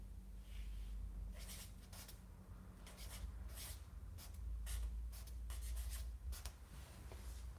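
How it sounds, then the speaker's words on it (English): Pen strokes scratch across paper in short bursts of writing, close and quiet, with brief pauses between strokes and no talking. "I'll write it here."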